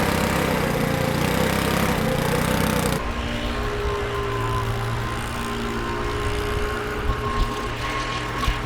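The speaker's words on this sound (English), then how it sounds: "Just going to go over this with the leaf blower now" A loud leaf blower clearing surface dust roars steadily close by, dropping to a lower, steadier drone partway through as it keeps running.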